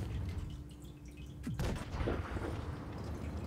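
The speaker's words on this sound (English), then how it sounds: "That shot just missing." A tank's main gun fires in World of Tanks Blitz with a sudden loud boom, heavy low rumble and debris trailing off, standing out against ongoing battle ambience and engine drone.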